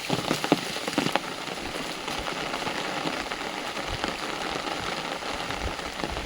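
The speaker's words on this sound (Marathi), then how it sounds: "तसं पाऊस लागता 2-3 दिवस पण आज बऱ्यापैकी लागता." Steady rain falls on a rice paddy, a dense even hiss with scattered close drops, moderately loud and continuous, with no voices.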